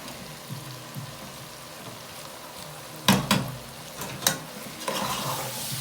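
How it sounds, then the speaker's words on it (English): A spoon stirs fio fio, Nigerian pigeon peas, in a pot, giving soft wet scraping and a few distinct clacks against the pot over a faint sizzling background. "I will stir"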